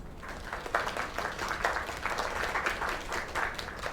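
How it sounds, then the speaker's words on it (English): Applause from a virtual crowd in a cozy narrative video game, a steady patter of many hands clapping at moderate volume for the whole stretch, with no talking. "Another round of applause."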